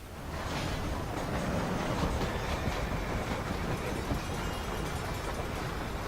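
A moving train in Red Dead Redemption on Xbox One rumbles steadily and continuously, a loud, dense rolling noise with faint rail clatter and no voices.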